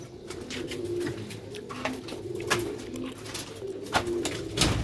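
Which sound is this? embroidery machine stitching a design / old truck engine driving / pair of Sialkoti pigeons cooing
pair of Sialkoti pigeons cooing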